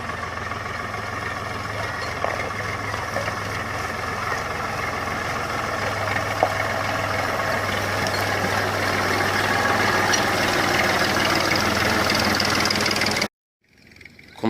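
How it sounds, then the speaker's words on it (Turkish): A tractor engine drones steadily at idle with a low, vibrating hum, moderately loud and continuous, cutting off abruptly near the end. "Babam sürüyor traktörü"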